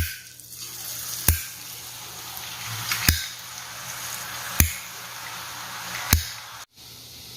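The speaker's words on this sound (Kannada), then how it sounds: "ಸಣ್ಣ ಉರಿಯಲ್ಲಿ ಇದನ್ನು ನಾವು ಫ್ರೈ ಮಾಡ್ಕೋಬೇಕು" Karasev dough frying in hot oil over a low flame during Diwali cooking, with a soft steady sizzle broken by four sharp, evenly spaced clicks and taps; no one speaks.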